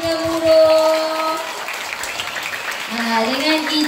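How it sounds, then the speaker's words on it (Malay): Audience applause at a formal Malay ceremony, a broad wash of clapping rising over about four seconds, mixed with tonal background sound and a voice near the start. "berikan tepukan"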